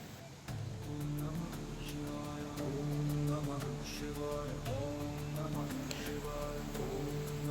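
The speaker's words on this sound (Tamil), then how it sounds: "இதுதான் பஞ்சலிங்க அருவி." Rushing water from Panchalinga waterfall forms a steady, loud broadband roar that fills the whole clip, with people talking continuously over it.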